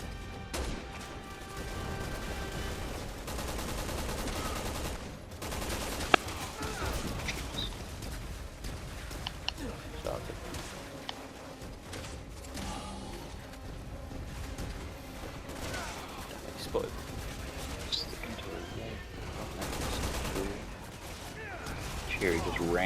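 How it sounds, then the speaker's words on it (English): Machine gun fire in Resident Evil 6, heard as scattered bursts and impacts within a busy, cluttered game soundscape, with talk throughout and a few sharper cracks standing out. "Oh, the guy with a machine gun."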